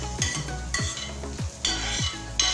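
A large batch of onions browns for chicken pastil, frying with a strong, steady sizzle as a spoon sweeps through the pan in rhythmic strokes roughly every half second, close and clear, with no speech.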